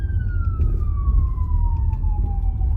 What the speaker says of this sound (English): There was an ambulance coming right there.